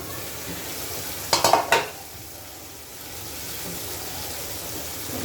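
A pan of tengra fish cooked with ridge gourd is stirred, giving a short cluster of scraping and sizzling bursts early on before settling into a soft, steady background hiss.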